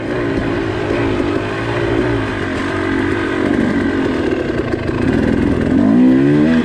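A 2019 TE 300i two-stroke dirt bike ridden on a single-track trail, its engine droning loud and close throughout with rising revs toward the end, no voices.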